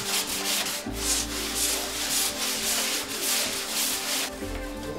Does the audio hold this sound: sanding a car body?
yes